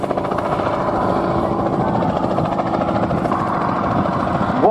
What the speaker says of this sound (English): the beautiful and amazing sounding Bristol Sycamore Mark 52